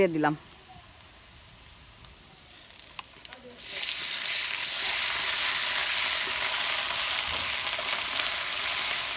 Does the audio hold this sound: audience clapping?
no